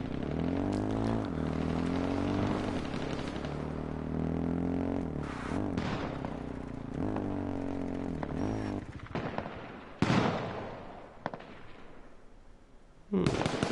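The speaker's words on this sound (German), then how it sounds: "Ich höre hier überall nur Schüsse" Gunfire in the battle royale video game H1Z1 comes as scattered shots and cracks over a constant droning, tonal background hum. A couple of louder, sharper reports stand out near the end.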